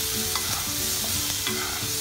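Tomatoes sauté with salt and sugar in a hot pan, giving a steady close sizzle with soft intermittent stirring scrapes throughout.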